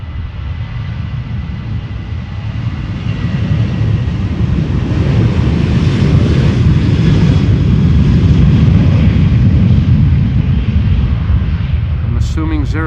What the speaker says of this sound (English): A380 taxi.